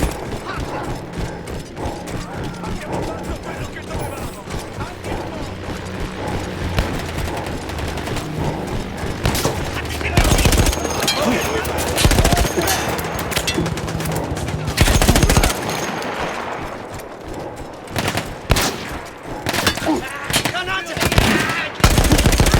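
Mounted machine gun firing during a World War I battle in Battlefield 1, with bursts and mechanical clatter running throughout, heavy salvos near 10, 15 and 21 seconds amid loud battlefield din and no voices.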